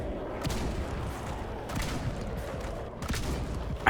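Shotgun gunfire in a zombie survival video game, several muffled booming shots spaced apart over a low rumbling background, no talking.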